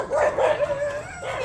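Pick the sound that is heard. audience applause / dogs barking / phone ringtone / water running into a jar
dogs barking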